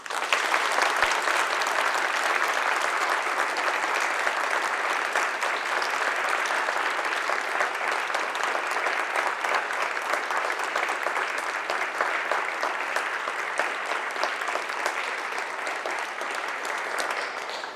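An audience gives a speaker a steady, sustained round of applause in a lecture hall, with dense clapping that holds at an even level from start to finish.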